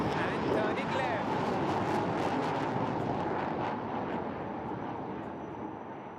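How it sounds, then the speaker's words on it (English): Sukhoi Su-30MKI fighter jet taking off at the Aero India 2021 air show, a loud continuous broadband roar that holds steady and then slowly fades as the jet climbs away. A crowd or announcer's voice sits faintly underneath. "There she goes, ladies and gentlemen, the mighty Sukhoi 30 MKI. Taking off and turning left."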